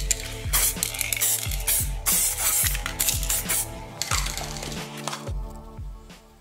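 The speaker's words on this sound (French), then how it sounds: "Pour le démoulant, il y a le choix, démoulant universel en bombe," Universal mould release aerosol sprayed from a can: a series of loud, close hissing bursts, each about half a second long, in a fairly regular rhythm, with no talking.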